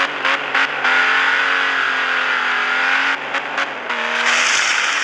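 A car engine revs hard and holds a high, strained whine with brief gear-change dips, loud and close with no talk over it.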